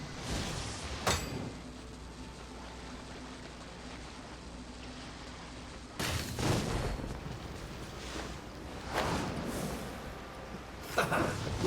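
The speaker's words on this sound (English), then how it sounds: "The explosion was roughly the size I expected." A booming explosion in the video game Genshin Impact, with a sharp blast followed by a quieter rumbling stretch and then another burst of heavy crashing impacts, loud against a low game backdrop.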